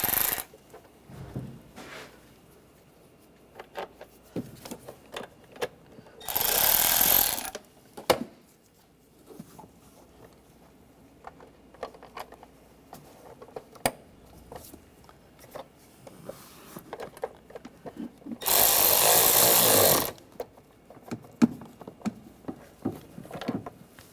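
Screws are driven into the secondary air valve cover on a 2009-2013 BMW 328i xDrive 3.0L inline-six in two loud ratcheting bursts, each lasting over a second, with small clicks and handling noises between them.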